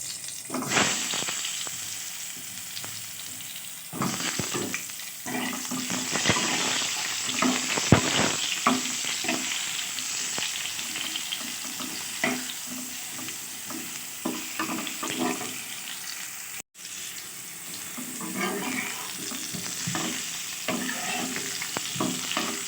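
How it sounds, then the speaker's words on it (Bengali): Brinjal pieces frying in oil in a wok, a continuous loud sizzle broken by repeated scraping and stirring knocks, close up and steady with no talking. "এই কড়াইয়ের মধ্যেই যেটুকু তেল আছে তার মধ্যে আমি বেগুনগুলোকে প্রথমে ভেজে নেবো"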